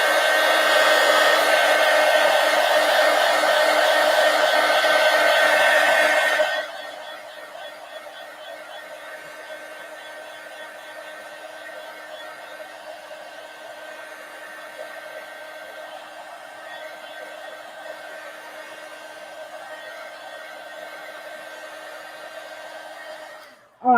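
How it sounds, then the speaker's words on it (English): A heat gun blasts a steady, loud broadband roar across a mixed media collage, then drops to a quieter continuous whir for the rest of the time before cutting off at the end. "let me hit this with the heat gun and dry this"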